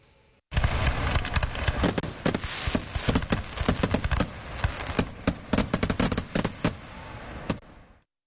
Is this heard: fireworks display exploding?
yes